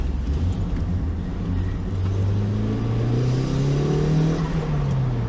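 Turbocharged Toyota MR-S TTE pulling hard in second gear, a loud close engine drone whose pitch climbs steadily and then eases off at the top of the rev range, with no one speaking.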